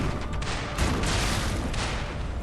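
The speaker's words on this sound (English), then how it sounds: "Ah, and then I got hit with the cannons." Cannon fire in the video game Lies of P, a dense, continuous roar of booming blasts and rumbling explosions with no voices over it.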